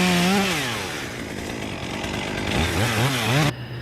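A chainsaw revs loudly and steadily while cutting a tree during spar work, its engine pitch wavering and climbing near the end before cutting off abruptly.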